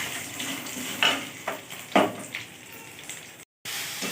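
Ginger fries in a pan with a light sizzle as a spatula scrapes and turns it in a few distinct strokes, followed by a brief cut to silence.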